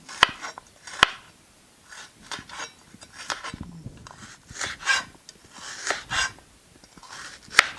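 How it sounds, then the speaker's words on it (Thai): A knife taps sharply against a cutting board in irregular chops through fingerroot, with soft rubbing and scraping between cuts, fairly quiet and close. "เราก็จะหั่นมาประมาณเซนหนึ่งนะคะ"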